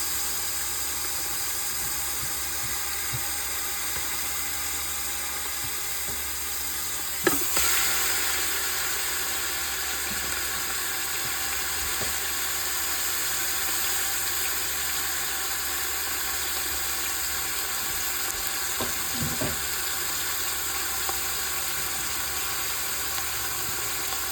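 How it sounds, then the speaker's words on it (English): Beef sautés and browns in a hot greased pan for a BBQ beef hoagie. A steady, close sizzle and hiss runs through the whole clip, broken by a single sharp clank early on. "So we want to give it a nice little saute. Brown it up."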